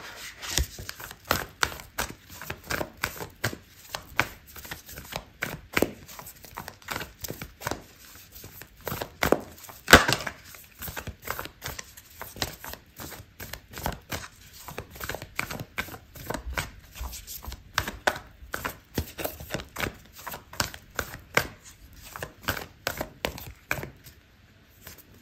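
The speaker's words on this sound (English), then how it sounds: "I'm going to pull out an oracle card for you" Oracle cards are shuffled for a tarot reading, giving a long run of quick, close riffling and sliding card sounds in irregular bursts, with no talking.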